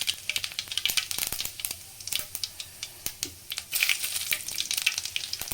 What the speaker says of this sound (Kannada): ಅದಕ್ಕೆ ಫಸ್ಟು ಸಾಸಿವೆ ಹಾಕೋಣ. ಆಮೇಲೆ ಜೀರಿಗೆ ಹಾಕೋಣ.